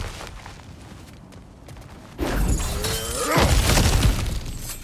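Cracked ground shatters in God of War Ragnarok, the video game: a loud, sudden crash with a burst of breaking debris that roars on and tails off for a couple of seconds after a quieter lead-in.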